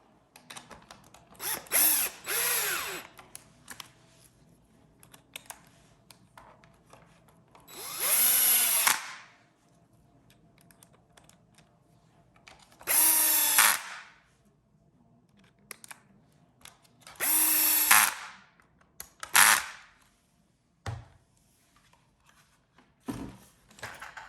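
Power driver sinking the mounting screws of an RPM LED light bar on a Traxxas Slash 2wd bumper, several short whirring bursts separated by pauses, close and clear.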